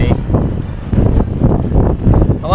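Strong wind buffeting the microphone during a mountain climb on Tasmania's Overland Track, a loud, gusty roar that surges and drops in repeated bursts throughout.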